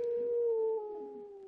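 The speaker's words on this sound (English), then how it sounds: "It sounds like a wolf." A wolf howls in the Minecraft game: one long, sustained tonal howl that holds steady, then drops slightly and fades over about a second and a half, fairly loud and alone.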